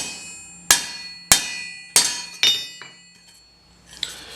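Hammer blows setting rivets on a hard steel anvil while forging a spatula: four sharp, ringing metallic strikes in a steady rhythm, each with a bright decaying ring, then a few lighter taps, close and loud with no talking.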